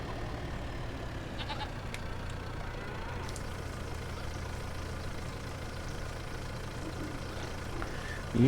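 Goats on a homestead bleat a few times against a steady engine-like idle hum and broadband noise, the calls faint to moderate and brief, with a louder sound at the very end.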